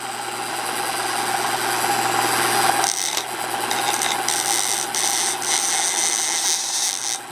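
Homemade AC magnet motor on 120-volt household current runs with a steady, close grinding buzz and rasping hum. The texture shifts partway through as it keeps spinning.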